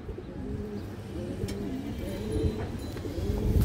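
A female Sabji pigeon of an old Giribaz line coos in low, repeated throaty phrases, steady and fairly close, with faint background noise.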